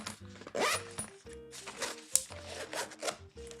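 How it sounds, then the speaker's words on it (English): A zipper is pulled open along the main compartment of an Aer Slim Pouch 2 organizer bag, giving quick raspy strokes beneath steady background music. "Opening up the main section of the bag, there's a lot going on."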